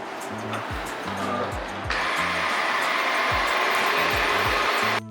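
An Ecovacs Deebot T20 Omni robot vacuum starts cleaning, its motor surging into a loud, steady whooshing hum partway through, with short electronic chime-like tones sounding before and around the start.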